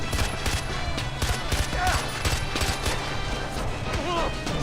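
Gunfire in Far Cry 4 rattles in dense, rapid bursts of sharp cracks, loud and continuous, with voices and game chatter mixed underneath.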